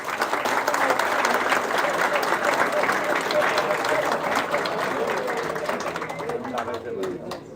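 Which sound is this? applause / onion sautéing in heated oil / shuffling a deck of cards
applause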